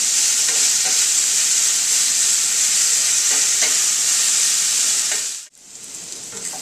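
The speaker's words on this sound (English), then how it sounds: "Just toss them around on medium-low heat." Vegetables sauté in a pan over medium-low heat with a continuous loud sizzle and the sound of tossing, no talk, then a sudden dip near the end before the frying resumes more quietly.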